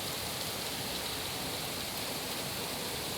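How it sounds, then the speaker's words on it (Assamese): A heavy evening downpour near the Christian Basti area of Guwahati makes a dense, steady hiss of rain with no breaks, even and moderately loud throughout. "ধাৰাসাৰ বৰষুণ, তলত পানীয়ে পানী।"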